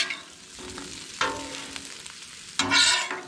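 Fries are stirred on a 36-inch Blackstone griddle, with a constant sizzle swelling into loud scraping bursts as a spatula turns them, close and without talk.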